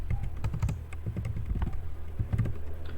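Quick bursts of clicky keystrokes on a computer keyboard as a command is typed into a terminal, close and fairly soft, in short uneven runs with brief pauses.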